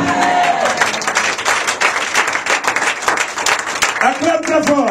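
Congregation at a Pentecostal Ivorian church service in Paris applauding and cheering loudly, a dense sustained wash of clapping and shouting with voices rising above it near the end.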